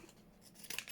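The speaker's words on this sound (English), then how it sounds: "So, cut that off there." Scissors cutting paper while decorating a window envelope for a junk journal, a brief close snip with a faint crinkle, quiet and unaccompanied.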